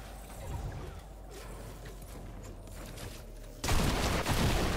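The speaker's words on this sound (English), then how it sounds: "Ah, he got me with the double barrel." A double barrel shotgun fires in Fortnite, a sudden loud blast near the end after a few seconds of quieter game ambience.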